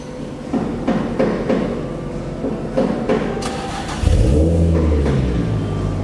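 At a bodyshop, a car with air suspension cranks and starts its engine after several clanks, then settles into a loud, close, rumbling idle with a light rev.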